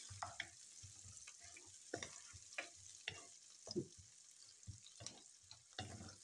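Finely chopped ginger and onion fry quietly in a pan, a faint sizzle broken by soft irregular stirring scrapes and clicks, close but low in level, with no talking.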